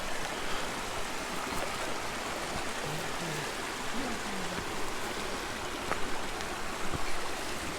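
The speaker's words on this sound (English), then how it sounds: "River's washed everything away." A river flows through a valley near Bannerdale Crags, a steady, loud rushing of water with a few faint tonal sounds mixed in.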